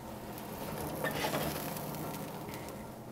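A grilled cheese sandwich fries in garlic butter in a pan, giving a steady, soft sizzle with faint crackles and a light scrape partway through, close and continuous with no talking.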